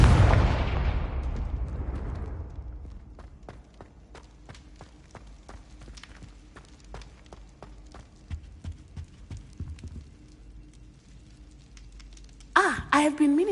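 Confringo fire spell in Hogwarts Legacy: a loud burst at the start fades away, followed by a long run of faint, sharp crackles and pops, then a sudden loud flare at the very end.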